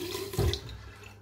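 Water poured onto a dry shaving brush from a Rockwell wet-shaving kit, a brief soft splash and trickle, close and quiet.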